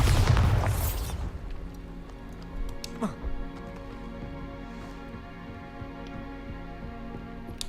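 Bombarda explosion spell in Hogwarts Legacy, a loud booming blast at the start that fades into a low rumble and scattered debris pops.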